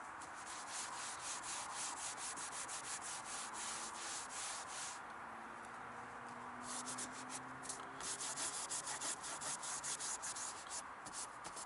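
Soiled leather car upholstery scrubbed with a one-step leather cleaner, rapid rhythmic brushing strokes, fairly quiet and close, with no talk.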